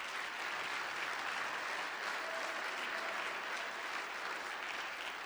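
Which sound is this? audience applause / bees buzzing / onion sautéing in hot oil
audience applause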